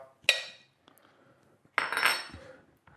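Two sharp metallic clinks of butter and brown sugar going into a medium saucepan, each with a short ringing tail, close by and with no talk.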